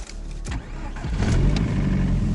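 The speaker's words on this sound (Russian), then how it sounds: "Слышите дизель, да, вот этот вот?" Diesel engine of a Chinese car cranking and catching, then settling into a steady low rumbling idle, close and moderately loud with no talking.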